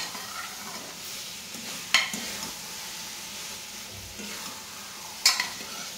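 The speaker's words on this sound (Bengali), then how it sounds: "এবার দিয়ে দেবো এই সিদ্ধ করে রাখা মাটনটা" Boiled mutton sizzles in a pan of cooked-down spices, a steady frying hiss under two sharp clinks of a spoon against the pan, with soft stirring scrapes between.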